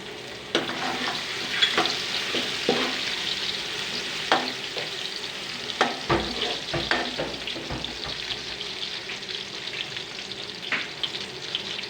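Onions that have browned in hot oil, now with garlic-ginger paste added, frying steadily for a Punjabi mixed vegetable pulao, with continuous close sizzling and a few sharp stirring knocks and scrapes throughout, no talking.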